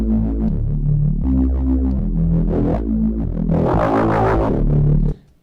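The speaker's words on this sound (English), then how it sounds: "Let's try a different distortion. So there's also this sine fold." A synth patch in Xfer Serum, a classic Reese-style bass run through sine fold distortion, plays stepping sustained notes with a buzzing, throbbing harmonic tone that brightens toward the end before cutting off abruptly.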